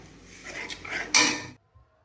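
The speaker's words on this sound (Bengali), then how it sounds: "নাড়াচাড়া করে এবার মশলাটা সুন্দর করে কষাবো।" Spice masala with salt and turmeric is stirred and fried in a pan, giving a scraping, sizzling clatter of spoon against metal that rises to a sharp scrape before cutting to silence.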